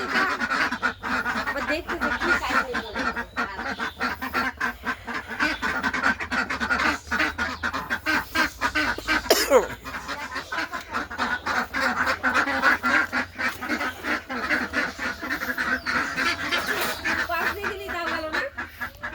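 A pet duck or goose calls over and over in rapid, raspy quacks, loud and close, which keep going throughout with some voices mixed in.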